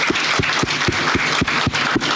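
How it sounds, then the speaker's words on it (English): An audience claps for a panel at a CEO conference. Steady, evenly spaced claps come through close and fairly loud, with no talking over them. "Let's clap for our panelists"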